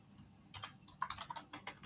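Typing on a computer keyboard, a quick irregular run of close, crisp key clicks that bunch into short bursts, with no talking over it.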